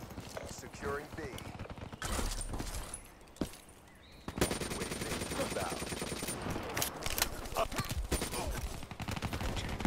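Rapid bursts of RECR rifle fire in a first-person shooter game, loud repeated volleys of gunshots with a short quiet gap, alongside game effects and a player talking over the action.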